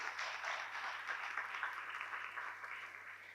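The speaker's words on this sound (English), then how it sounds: "A big round of applause to Mr. Roger." Audience applause at an inaugural ceremony, a steady wash of many hands clapping at moderate distance for a few seconds and tapering slightly at the end.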